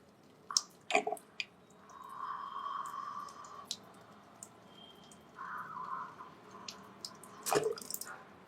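Water drains out through the nose during a jala neti nasal cleanse with a neti pot. Soft, close trickling and dripping come in two runs of a few seconds each, with scattered wet drips and splashes in between.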